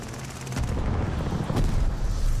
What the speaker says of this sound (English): Teammate called an airstrike.